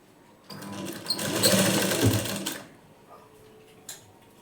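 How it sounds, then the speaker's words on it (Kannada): An electric sewing machine stitches the front panel of a plain blouse. The motor hums for a close, steady two-second run, then slows to quieter intermittent whirring with no talking. "ಅದರಲ್ಲಿ ನಾವು ಸ್ಟಿಚಿಂಗನ್ನು ಮಾಡ್ಕೊಳ್ಬೇಕು."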